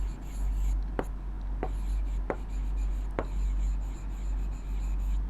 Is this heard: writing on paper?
yes